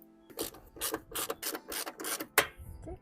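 A ratchet tightens the door hinge bolts on a Honda Civic in a series of close, rhythmic clicking strokes, about seven quick bursts evenly spaced with a short pause near the end, no talk.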